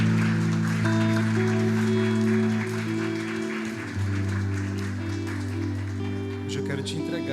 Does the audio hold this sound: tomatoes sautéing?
no